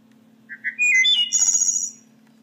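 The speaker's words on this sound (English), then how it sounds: "two more cards, which gives you 40 more calls of woodpeckers and frogs, owls, and hawks" An IdentiFlyer Lyric handheld bird-call device plays a short recorded birdsong, a rising string of clear whistled chirps ending in a trill, bright and close over a faint steady electronic hum.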